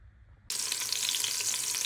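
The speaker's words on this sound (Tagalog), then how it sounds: "Ginisa ko na yung sibuyas bombay at saka luya." Onion and ginger hit a hot pan and break into a loud, steady sizzle that starts abruptly and keeps up without pause, for a pork belly sinigang.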